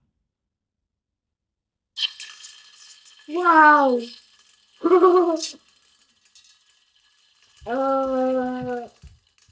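Molten tin poured carefully into water gives a steady hissing sizzle that runs for several seconds, with excited voices exclaiming over it.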